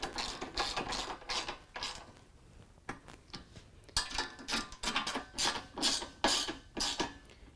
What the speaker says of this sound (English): we're going to take a 13mm and tighten up our two carriage bolts